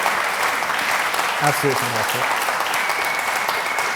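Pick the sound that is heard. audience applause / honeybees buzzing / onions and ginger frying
audience applause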